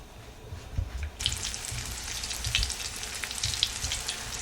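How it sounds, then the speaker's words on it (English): Fish pieces fry in a hot pan, a steady close sizzle and crackle that starts abruptly and runs on alone with no talk. "So I'm about to start frying my fish."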